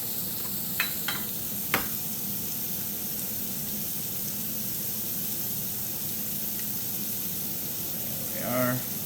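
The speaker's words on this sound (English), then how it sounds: "Just crack them right into a bowl." Four eggs cracked into a bowl for breakfast burritos: a few sharp, brief taps and cracks close by early on, then a quiet stretch with faint kitchen noise.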